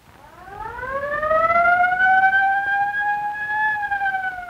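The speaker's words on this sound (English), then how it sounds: "Turn the lube oil low pressure alarm switch to test." A low-pressure lube oil alarm aboard a 1943 US Navy diesel-electric destroyer escort is tested, sounding a loud siren-like wail that climbs in pitch, then holds steady and continuous.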